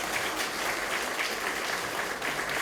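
An audience at a book concert held by Seoul mayor Oh Se-hoon breaks into sustained, dense applause, steady and fairly loud throughout with no voices standing out.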